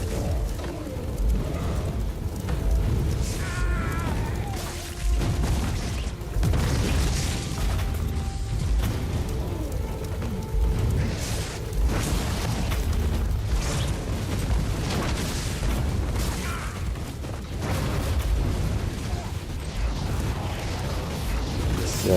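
Enemies blow up on death in Warhammer 40,000: Inquisitor while a Battle Sister fights through a mob, giving repeated short pops and bursts inside a dense, continuous clatter of mechanical combat noise.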